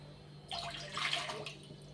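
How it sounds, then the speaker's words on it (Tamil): A short pour of water into a pan for boiling hakka noodles, a brief splashing gush lasting about a second over a faint background hum. "அதுக்கு ஒரு சொம்பு தண்ணி ஊற்றிக்கோங்க."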